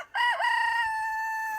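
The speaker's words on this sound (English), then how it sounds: "My chickens." A farm chicken gives a single loud, close call with a rising start and a long held note, alone with no other sounds.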